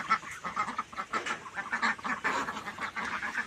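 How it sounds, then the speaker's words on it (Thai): Around ten young ducks on a small farm quack in a lively, continuous chorus of overlapping calls at close range, with no talking. "เลี้ยงเป็ดอยู่ตรงนี้ มีเป็ดอยู่ประมาณ ประมาณสิบ ตัวนะคะ"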